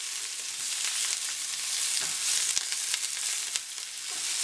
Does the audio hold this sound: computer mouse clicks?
no